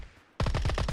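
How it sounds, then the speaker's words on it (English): A Mini 14 rifle firing in PUBG, about seven evenly spaced semi-automatic shots in quick succession, loud and close after a brief quiet lead-in. "Whipping out the Mini 14."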